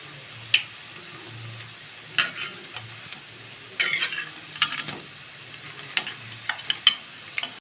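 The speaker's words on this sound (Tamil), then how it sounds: "வடை போடையில் ஃபுல் ஃப்ளேமில் இருக்கணுங்க கொஞ்சம் வெந்த உடனே கொஞ்சம் தீயை கம்மி பண்ணிக்கணும்" Urad dal vadas with drumstick leaves deep frying in oil over a high flame, giving a soft bubbling sizzle broken by sharp spatula clinks and crackling bursts, close and otherwise quiet.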